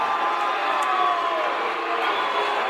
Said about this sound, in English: Home crowd doesn't like it